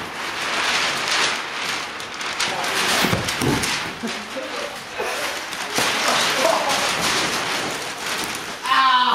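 Rain falls steadily through a staging of Macbeth, a dense, loud hiss that keeps on throughout with small swells in strength.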